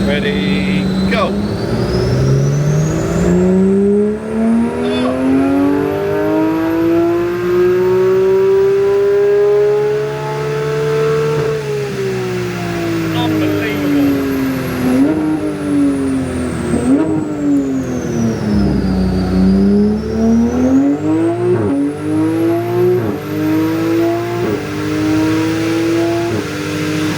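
A Porsche 911 GT3 engine strapped to a dyno after engine and gearbox tuning, sweeping up through the revs in long loud pulls, with gear changes, dips and a final surge and fall, close and dominant.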